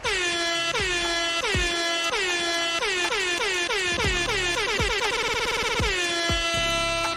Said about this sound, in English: And a big fat air horn,